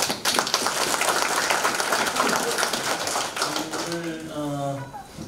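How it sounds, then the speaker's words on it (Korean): Audience at a Korean policy forum on population change applauding sign-language interpreters, a dense spread of hand claps for about four seconds that thins out as a speaking voice takes over. "두 분께 박수 부탁드립니다"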